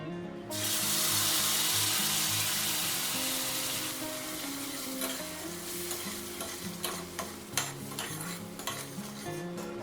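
Masala spice mix of dried chilli powder and turmeric sizzles steadily in a pan over a low gas flame, with a loud, continuous frying hiss and a scraping spoon stirring against the pan toward the end.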